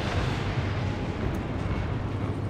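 In the naval video game World of Warships, a destroyer's guns fire a full broadside, heard as one dense, loud, rumbling roar lasting about two and a half seconds, with no speech.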